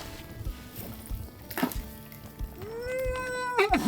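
A cat meows at a house under demolition, where the second floor has been taken down and a heavy ridge beam is being lowered; a rising, drawn-out cry near the end follows shorter, softer calls amid clattering work noise.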